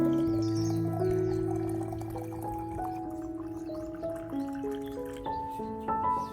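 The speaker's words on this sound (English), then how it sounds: "Then I pour about 1 liter of boiling water into the jar." Boiling water poured into a jar holding coffee powder, with a pitch that climbs steadily as the jar fills, under a soft gurgle with a few drips, close and quiet.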